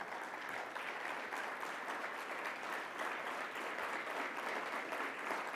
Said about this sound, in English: That's worth a great round of applause.